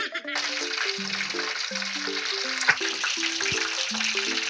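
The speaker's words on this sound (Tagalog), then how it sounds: "habang nga po nagpiprito pa tayo" Steady sizzling and bubbling of pork belly deep frying in hot oil, with melodic music playing over it.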